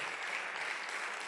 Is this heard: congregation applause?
yes